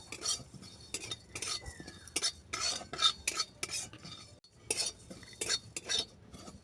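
A spoon stirs and scrapes dry panch phoron and radhuni spices around a pan in quick, repeated strokes, close up and fairly quiet, with no voices.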